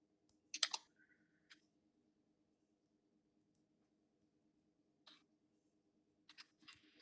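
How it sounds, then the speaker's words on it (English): Faint keyboard typing in a quiet room, a few sparse clicks and short clusters of keystrokes spread apart over a low steady hum. "I'm typing."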